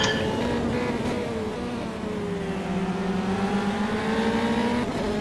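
Formula 3 race cars in the Automobilista racing game at Floripa, engines droning and shifting pitch as they come through the last corner; a continuous, loud buzzing whine with no commentary audible.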